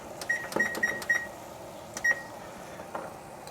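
A kitchen timer chirps in a quick run of short beeps, then one more beep after a pause, under clattering kitchen noise while eggs soft-boil.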